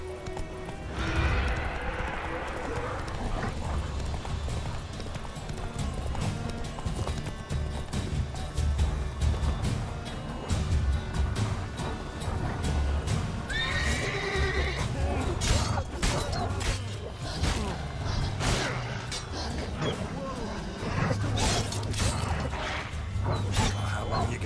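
Roach the horse in The Witcher 3 galloping with rapid rhythmic hoofbeats and neighing now and then, alongside thuds and clatter, with a voice speaking partway through.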